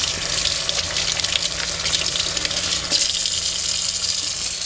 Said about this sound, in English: Turn your water back on,